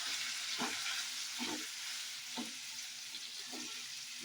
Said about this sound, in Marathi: आणि आता आपण हे मस्त बघित भाजून घ्यायचं आहे, थोडेसे लालसर होईपर्यंत